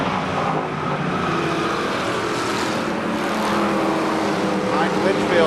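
Midget race cars race at Columbus Motor Speedway, a dense, continuous roar of engines rising and falling as the cars circle the track, with a race announcer talking over it.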